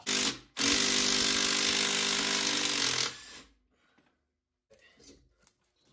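An 18 mm wrench works loose a sway bar link nut on a vehicle, giving a loud, dense ratcheting burst that runs about three seconds after a brief first spurt, then falls to near silence with a few faint clinks.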